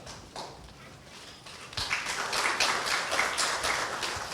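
Scattered applause from journalists at a city mayor's press briefing in Hwaseong, starting after a quiet opening and swelling into a steady patter of clapping from a small room.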